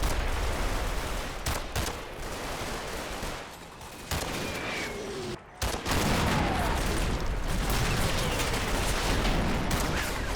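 Automatic weapons fire in the Combat Mission World War II game, a dense, sustained crackle of distant shooting that barely drops off apart from one short lull midway.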